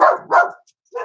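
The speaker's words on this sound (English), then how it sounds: "Oh, my dogs." Pet dogs barking indoors, three short yipping barks, close and fairly loud, separated by brief gaps.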